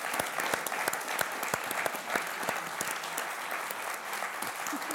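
An audience at a talk at St. Luke's applauds, a steady wash of many hands with a few sharp nearby claps standing out, at a moderate level and without talk.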